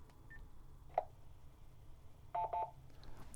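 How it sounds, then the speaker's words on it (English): An amateur radio repeater answers a CS-580 handheld after it keys up, sending a short tone and then two quick beeps, faint against a low background hum. "Now when I key up, I should hear the repeater answer me back."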